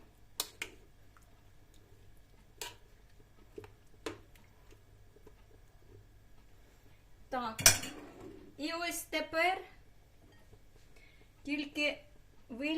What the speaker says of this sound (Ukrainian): Знову перемішаю, щоб воно донизу достало.